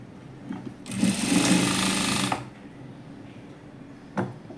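A sewing machine stitches a folded blouse hook strip for a princess-cut blouse, one steady close burst of about a second and a half, then stops; a faint brief clatter follows.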